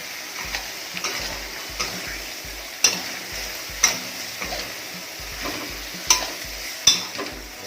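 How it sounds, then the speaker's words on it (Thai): Clown featherback fish balls being stirred into green curry paste frying in a pan, a close sizzle with repeated scraping strokes and several sharp metallic clinks of the utensil against the pan. "ตอนนี้เครื่องแกงก็ หอมแล้วนะครับ เราจะเติมลูกชิ้นปลากรายลงไปครับ"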